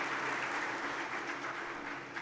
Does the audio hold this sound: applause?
yes